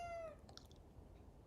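A short synthetic meow from a $200 gadget, one brief clear cry at the start, followed by faint clicks and low room noise.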